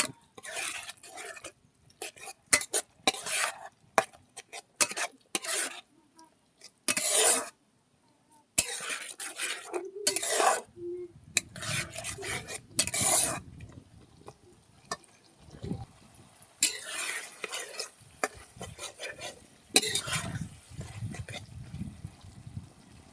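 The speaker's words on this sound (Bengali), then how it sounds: "মশলাটাকে ভালো করে কষিয়ে নেব।" A spoon stirs and scrapes spice masala in a pot as it fries for beef curry, bursts of metallic scraping and sizzle separated by pauses.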